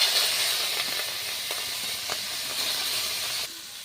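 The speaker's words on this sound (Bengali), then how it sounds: "চিংড়ি মাছ আমি ভাজা দিয়েছি" Prawns frying in a pan with dried red chilli and cumin, a loud continuous hiss and sizzle of hot oil with a few faint clicks, fading slightly near the end, no voices.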